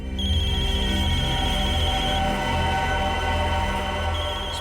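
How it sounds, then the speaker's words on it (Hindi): A mobile phone ringtone plays in a crime-drama scene, a loud, sustained electronic melody of steady tones that holds for several seconds and fades near the end, with no speech over it. "इसमें तो मोबाइल की रिंगटोन जैसा कुछ बजा है।"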